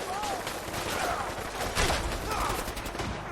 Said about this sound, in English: he shot me with his harpoon gun